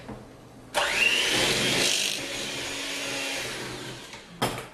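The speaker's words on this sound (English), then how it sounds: "My hand beater goes a little bit crazy. It's a little overexcited when it beats." An electric hand beater mixes thick sugar cookie dough in a bowl, whirring loudly and steadily for about four seconds after a sudden start, then cutting off with a brief burst of clatter at the end.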